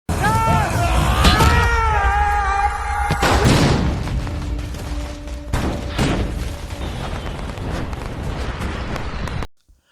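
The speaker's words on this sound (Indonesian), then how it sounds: "petasan serta bahan ledakan yang ia miliki meledak menimbulkan suara yang sangat besar" Firecrackers and explosives go off in a loud, continuous roar of booms and crackling blasts that fills the scene, with overlapping bursts before it cuts off abruptly.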